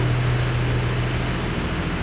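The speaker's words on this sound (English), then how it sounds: "So, I like the way old cars sound." An old car engine idles in a garage, a steady low rumble holding an even hum close by, with no talk over it.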